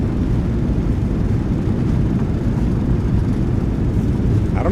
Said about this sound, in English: Reversers are out. Decelerating.